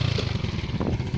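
A motorcycle engine runs close by near a river, chugging and putting in a rapid, pulsing rhythm with a slight clatter, steady and loud throughout.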